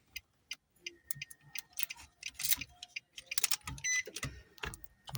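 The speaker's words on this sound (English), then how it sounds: "Then insert the key and turn the ignition on" A key is inserted into the ignition of a 2010 Nissan Pathfinder and turned, producing a run of close, quiet clicks, metallic jingles and ticking taps scattered unevenly over a few seconds, with near-silence in between.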